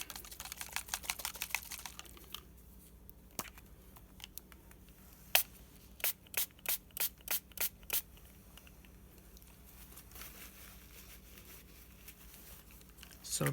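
A hand-pumped nozzle on a bottle of homemade glimmer craft spray gives a quick run of short, sharp spritzes, then a second evenly spaced burst of about six sprays, close and fairly quiet, with a few scattered taps between.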